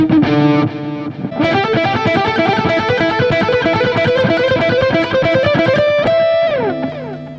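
A heavily distorted Fender Fullerton Tele electric ukulele plays chugging metal riffs, loud and saturated throughout, ending on a sliding bend.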